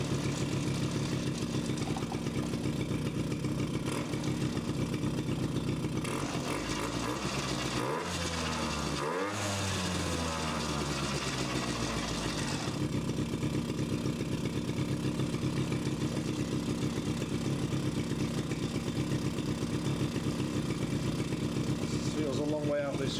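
The small engine of a Suzuki LT50 quad idles steadily after carburetor adjustment, a continuous close buzzing drone with a brief rise and fall in pitch midway, running alone throughout.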